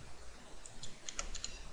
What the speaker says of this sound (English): I simply type in Windows and hit enter.